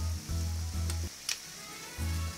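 Steak and shrimp sizzle and crackle on a hot Blackstone griddle, a close, moderate frying hiss broken by a few spatula scrapes and clicks, with no talking.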